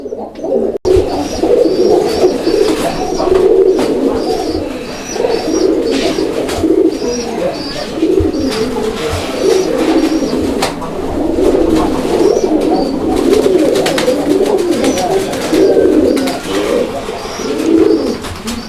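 A male and female pair of Raj-Golla pigeons coo continuously and loudly up close, the throaty rolling calls repeating in overlapping waves over a steady background hum.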